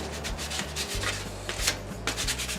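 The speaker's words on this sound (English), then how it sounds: "I'm going to work on sanding that down a little bit" A wooden wedge is sanded by hand with sandpaper, giving close, quiet, irregular rubbing strokes in quick succession.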